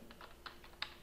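Fingers tap a computer keyboard in a few quick, light keystrokes, close and quiet against a faint background hum.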